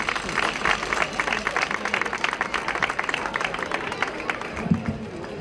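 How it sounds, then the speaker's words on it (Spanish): Crowd applause at an outdoor inauguration event in Sabinillas, Manilva, welcoming a speaker to the stage; steady dense clapping from a large gathering throughout, with a brief louder burst near the end. "lo recibimos con un fuerte aplauso a Mario Jiménez"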